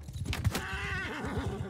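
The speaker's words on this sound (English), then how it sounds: "Oh damn, I hit his horse!" A horse neighs in the medieval combat game Mount and Blade II: Bannerlord, a loud, close whinny with a wavering, trembling tail over a brief thump.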